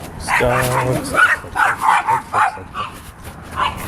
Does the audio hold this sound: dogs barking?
yes